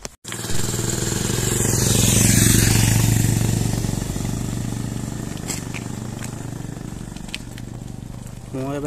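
A motorbike engine runs steadily on a forest road, a continuous loud rumble with rising and easing throttle and wind noise, with no speech.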